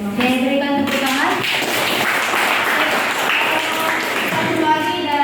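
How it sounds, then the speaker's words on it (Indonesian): A classroom of students claps hands together in a loud, continuous patter while voices ring out over the clapping at the start and again near the end. "Oke, berikan tepuk tangan."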